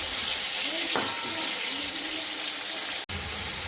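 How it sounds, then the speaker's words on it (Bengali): Squash and ridge gourd fry in a pan with a little salt, giving a continuous close hiss of sizzling oil with a brief clatter and a sharp knock near the end. "এবার কোয়াশ আর ঝিঙ্গেটাকে ভালো করে ভেজে নেব"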